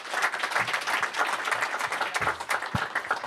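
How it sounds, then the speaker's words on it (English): An audience applauds a venture capital panel at the end of a session, dense sustained clapping from many hands, close and fairly loud, with no talking. "let's give our panel a round of applause for a great session today"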